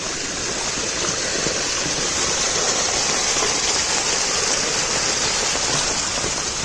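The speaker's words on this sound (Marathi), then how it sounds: "आज खरो पाऊस लागलो ह्या वर्षी तो मुसळधार" Heavy monsoon rain pours without a break over fields and a stream in the Konkan, a dense, loud roar of water that stays level throughout with no voices.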